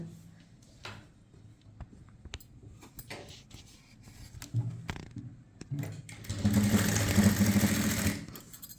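A sewing machine runs a short burst of stitching along the folded edge of blouse fabric, loud and steady for about two seconds near the end, after quiet handling and tapping sounds.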